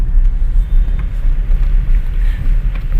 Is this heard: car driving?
yes